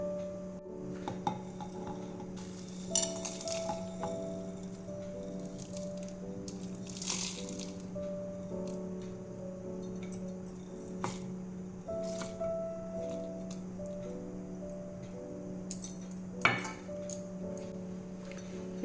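Dried chili, green chili, cumin and coriander being ground into a paste, heard as soft squishing and crushing strokes with an occasional clink over a steady tonal hum.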